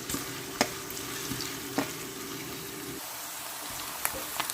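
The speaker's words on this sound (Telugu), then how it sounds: "ఈ ఉల్లిపాయలన్నీ చక్కగా వేపేసుకుందాం పచ్చివాసన పోయేలాగా" Chopped onions and green chilli slices fry in a pan for a chicken curry, giving a steady close sizzle broken by a few light scraping stirs and clinks, with no speech.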